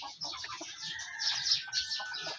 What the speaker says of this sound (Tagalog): So ito yung ating hen.